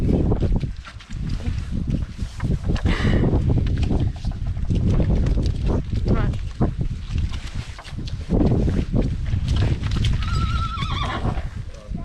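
A horse on a Polish farm, checked for a limp, neighs and whinnies while hooves clip-clop steadily nearby, loud and close throughout with some wind and outdoor bustle.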